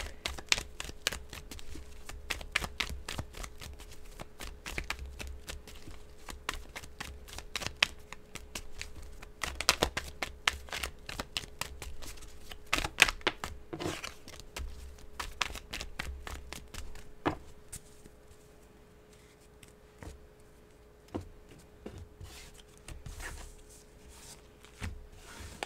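Tarot cards are shuffled by hand in a long run of quick, crisp riffles and taps, close and fairly soft, thinning out toward the end, with no one speaking.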